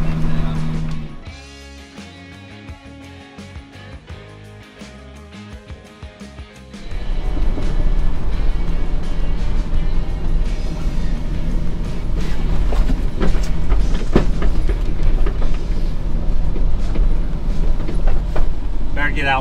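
A truck is rolled backwards and its clutch dumped to spin the tires in a burnout. After a quieter opening, a loud, close, sustained engine roar and rumbling tire noise swell up and hold to the end.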